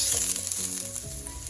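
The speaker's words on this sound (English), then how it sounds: "we're going to go ahead and add our onions and cook our onions until they become translucent" Onions and garlic frying in a pan for moussaka, giving a steady, close sizzle with a dense crackling hiss throughout a short moment, with no voices.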